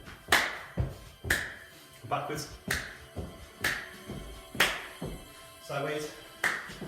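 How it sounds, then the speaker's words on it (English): Children clap their hands while travelling sideways and backwards in a primary-school gymnastics lesson, about a dozen sharp claps at a steady rhythm, with an adult voice calling out between them. "let's see if you can clap. Clap in front again."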